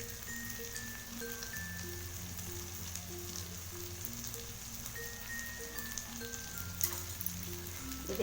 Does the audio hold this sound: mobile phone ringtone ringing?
no